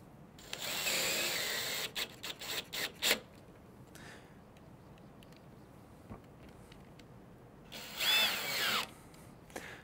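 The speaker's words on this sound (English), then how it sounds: "we'll take those other two screws and drive them into the back side of the header and side bow" A power drill drives screws into the back side of a header, starting with a close, loud whir, then a series of short, stuttering bursts, and ending with another sustained run after a quiet gap.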